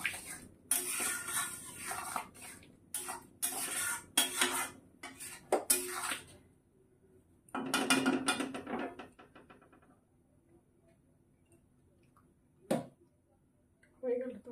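A pot of curry is lifted off a home stove, giving a run of metallic clanks and scrapes of pot and utensils in bursts, with quieter gaps and a final knock.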